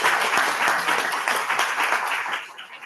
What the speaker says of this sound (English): please give a round of applause for Terese here